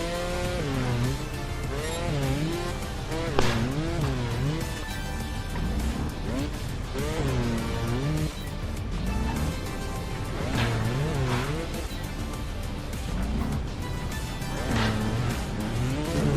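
A motorcycle engine in the video game Trial Fusion on PS4 revs and drones steadily throughout, mixed with game sounds, while a voice talks over it.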